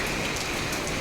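Steady rain pours down during a stormy spell, a dense, even hiss of drops hitting surfaces with no breaks, close and fairly loud.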